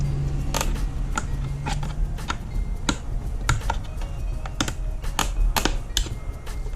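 Plastic trim clips on a BMW F30 are pulled loose, producing a series of sharp, close clicks and pops scattered over steady background rustle and handling noise, with no talking.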